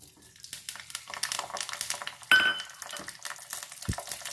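Onions sizzle and crackle in oil in a pan as they are stirred, with scraping strokes and a brief metallic clank of utensils against the pan.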